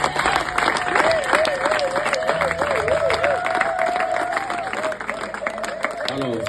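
A church congregation breaks into sustained loud applause and cheering, dense clapping with voices and a whistle-like tone rising above it, continuing for several seconds.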